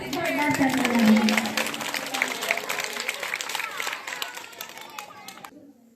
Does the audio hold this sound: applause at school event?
yes